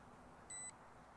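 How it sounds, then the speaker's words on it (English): An SJRC F7 drone gives a single short electronic beep during compass calibration, a clean steady tone lasting about a fifth of a second over quiet background hiss. "And it did beep"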